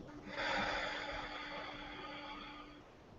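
A slow, steady exhale from a person in a guided heart-centred yoga breathing session, a soft breathy rush that swells early and fades gently over about three seconds, heard alone and close.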